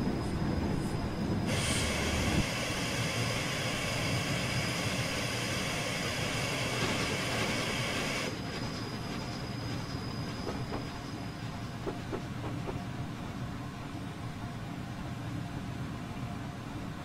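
Simulated train rolling through Kimberley station on the Onehouse model railway route in Train Simulator 2016, a steady loud rumble with a high sustained whine that cuts off partway, leaving a lower running drone with faint clicks.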